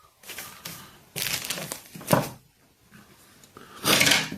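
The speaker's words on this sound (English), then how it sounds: "we can get our scissors and trim off that excess" Scissors trimming excess material while tying an Atlantic salmon fly: several crisp crinkling snips in separate bursts, close by, with short pauses between cuts and no talking.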